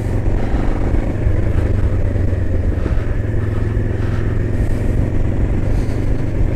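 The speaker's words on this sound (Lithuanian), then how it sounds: "duodi gazų ir tas garsas jo, jis tarsi pabunda." A 2025 Moto Morini X-Cape 700 adventure motorcycle engine revs loudly and close by with a constant, throaty drone.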